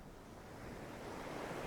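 Ocean waves wash onto a sandy beach with a soft, continuous roar of surf and a little wind noise, gently swelling toward the end.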